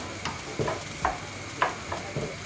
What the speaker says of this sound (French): Huile d'olive, je vais mettre les oignons émincés.